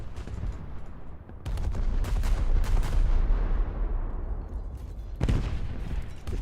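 Sustained rapid gunfire from AI-controlled gunners in the War Thunder video game, dense overlapping volleys and booms running almost continuously, loud and close.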